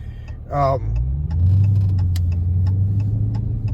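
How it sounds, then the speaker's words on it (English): A truck passes on a road, its engine rumble swelling loud and near and holding steady as it goes by, with brief speech at the start and scattered ticking sounds over the drone. "wait for this truck"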